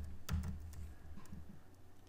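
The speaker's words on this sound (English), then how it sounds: "type the word embed" Keystrokes on a computer keyboard typing a short word, a quick run of soft clicks near the start followed by sparser taps, close and fairly quiet with low background hum.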